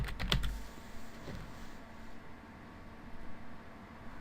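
Someone types on a computer keyboard while adding a WordPress plugin, a quick burst of clicking keystrokes near the start that thins out into a couple of fainter taps over low background hiss.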